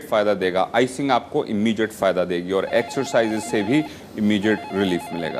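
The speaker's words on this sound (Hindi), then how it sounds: "फ़ोन की घंटी लगातार बज रही है।" A telephone rings repeatedly during a health phone-in show, its ringing tone faint and partly buried beneath continuous talk.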